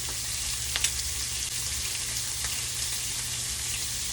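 Shrimp searing in olive oil in a skillet, a steady close sizzle and crackle of hot oil with occasional small pops and no voices.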